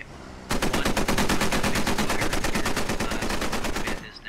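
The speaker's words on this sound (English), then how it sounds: "getting shot up from radio tower" Sustained automatic gunfire in Squad, fired from a radio tower at vehicles, a loud, fast, evenly spaced burst of shots lasting several seconds before cutting off.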